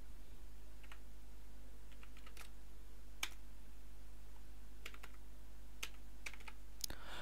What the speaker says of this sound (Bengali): আমরা পাসপোর্ট নম্বরটি লিখে দিচ্ছি